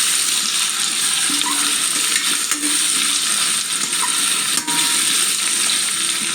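Vegetables for pulao sizzle and fry steadily in a hot pan, a continuous loud hiss with occasional soft stirring scrapes, no talking.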